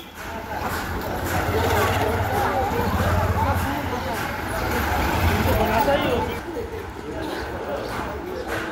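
Busy street in Lalbazar, Kolkata, with a steady wash of passing vehicles and distant honking, pigeons and a dog nearby, while people talk over the noise.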